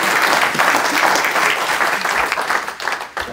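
Audience applause at a round-table panel discussion, dense steady clapping from a seated crowd filling the room, tapering slightly toward the end.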